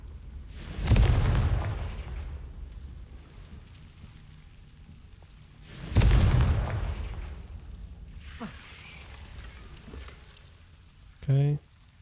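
Two heavy explosive blasts from the Confringo fire spell in Hogwarts Legacy, about five seconds apart, each a loud deep boom that fades into a rumbling tail, with a short sharp burst near the end.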